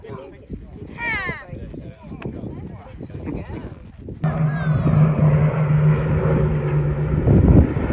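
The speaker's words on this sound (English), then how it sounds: "Just Jane, the Lancaster, and 2 Spitfires." The Lancaster bomber Just Jane and two Spitfires pass over Lincolnshire farmland, a distant propeller-engine drone swelling into a steady, low humming roar partway through, while people talk excitedly nearby.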